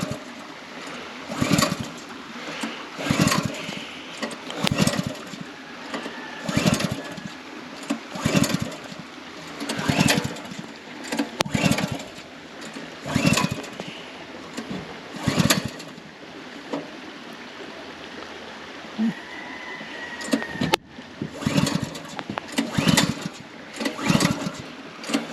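A choked small engine is pull-started over and over without firing, each sharp cord yank making a brief whirring crank, about a dozen pulls in a rough rhythm with short pauses between, close and loud.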